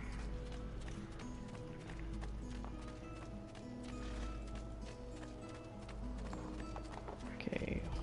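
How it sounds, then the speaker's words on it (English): Rhythmic horse hoofbeats clip-clop steadily in Assassin's Creed 2 over a continuous game soundtrack, with faint mechanical clicks and a brief louder clatter near the end. "Horse."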